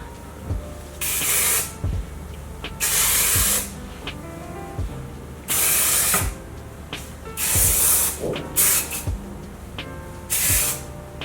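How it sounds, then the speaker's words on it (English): Repeated short bursts of Joico thermal protectant hair spray hiss from a nearby aerosol, about seven spritzes with pauses and small handling clicks between them. "I'm going to start off with thermal protectant spray,"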